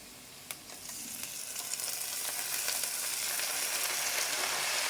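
Amaranth leaves hitting a pan of golden fried onions, a sharp clatter followed by a loud, steadily building sizzle and hiss that fills the whole stretch without any voices.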